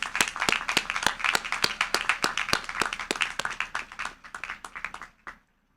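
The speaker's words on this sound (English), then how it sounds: "I believe that we deserve another huge round of applause, so let's hear it for our graduates." A graduation ceremony crowd claps for the graduates, crisp close claps in quick succession that thin out and stop abruptly near the end, leaving brief quiet.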